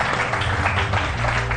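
Audience breaking into loud, dense applause, many hands clapping close together in a continuous wash with a low background hum beneath.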